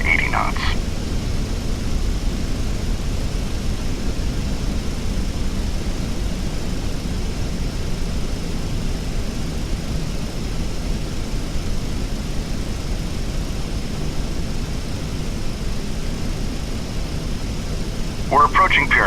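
Aircraft engine in Microsoft Flight Simulator X during descent, a steady broadband whooshing drone that holds level the whole time, with brief beeps at the start and end.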